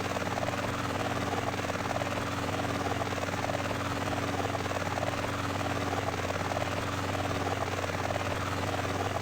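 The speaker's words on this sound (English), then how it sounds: "Helicopter is getting lower pitched as we speak." A helicopter engine in the video game GTA San Andreas drones continuously with a steady low buzzing hum and rotor chop, constant in level and heard alone.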